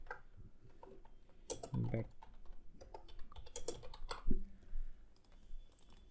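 Quiet bursts of clicking keys on a computer keyboard as a folder name is typed on a desktop, irregular taps with a few louder clacks, in a quiet room.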